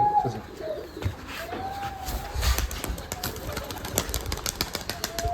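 Giribaj pigeons coo at a large pigeon farm, soft repeated throaty coos over a steady busy background of many birds, some wing flutters and scattered faint noises, fairly close.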